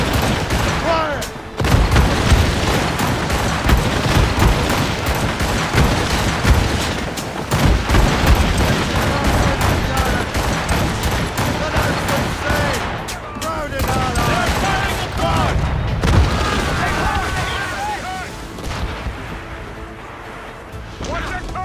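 Cannon fire and gunfire from a naval battle in the Assassin's Creed Rogue video game, a loud continuous barrage of booms and shots running throughout, with shouted voices mixed in.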